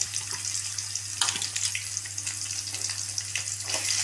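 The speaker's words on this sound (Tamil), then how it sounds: "பொன் வறுவலாக வறுந்து வர வரைக்கும் நல்லா வதக்கி விட்டுக்கோங்க" Chopped onions and nuts sauté in a hot pan for wheat rava kichadi, giving a continuous crackling sizzle with occasional stirring scrapes over a low steady hum and no talking.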